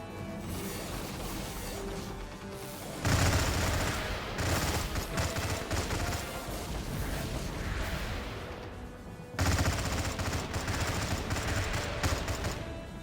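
Rapid turret fire in a Stargate at War strategy battle, dense bursts of shots and crashes sustained over the whole stretch, loud and close, with a brief lull before a heavier barrage resumes.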